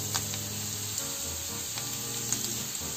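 Cooked rice going into a hot pan with vegetables for veg fried rice, a steady close sizzle and hiss of frying with a few faint scrapes and clinks.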